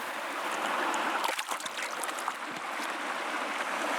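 A small Norwegian river pours out of a lake just below a bridge, a steady close rush of fast water with a few brief splashes and knocks, no voices.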